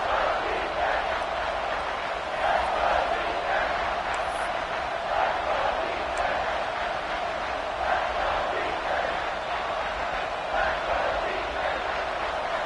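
A dense, steady stadium crowd roar at a Notre Dame v. Alabama football game fills the air, constant and loud throughout, with no breaks or distinct voices standing out.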